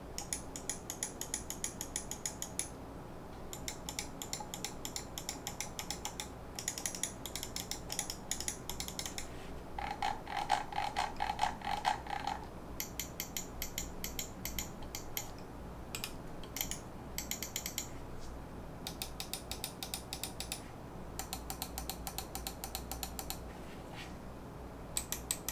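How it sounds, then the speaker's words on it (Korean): Quick, crisp clicks from a Pantech UX1 HERO gaming mouse repeat in short bursts and steady runs, close and dry, with a faint hum underneath and no voices. "일단은 키 사운드를 한번 들어볼까요?"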